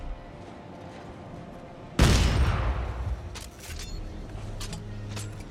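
A gun in the Dead Space 3 video game fires one loud, sudden blast that trails into a decaying rumble, followed by a few quieter clicks and mechanical sounds over low game ambience.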